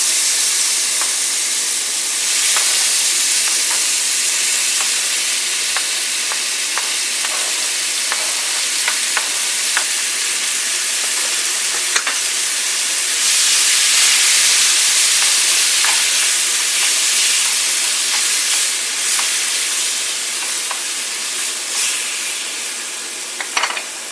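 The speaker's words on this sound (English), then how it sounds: "Next, we're going to just add the peaches to the pan." Peaches sizzle and fry steadily in a hot pan, a continuous bright hiss with scattered pops and crackles and occasional stirring, close and fairly loud throughout with no talking.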